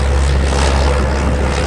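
Small propeller plane taking off, a loud, steady engine roar with low droning hum, close and continuous with no voices.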